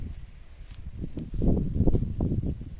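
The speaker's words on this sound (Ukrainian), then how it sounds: "Вітер." Low rumbling wind buffets steadily, swelling louder midway with gusty bursts, alongside faint rustling.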